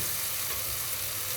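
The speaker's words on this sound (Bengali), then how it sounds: "আমার সবজিগুলো অলমোস্ট ভাজা ভাজা হয়ে গিয়েছে" Vegetables for khichuri fry in a pan, giving a steady, moderate sizzle that continues evenly throughout, close by with no speech.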